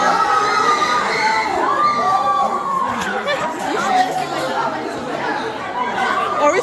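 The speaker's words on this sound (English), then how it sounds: "Are we screaming like that?" A group of students shouts and screams together at a state debate tournament. Loud overlapping voices, yells and excited chatter fill a crowded, echoing space.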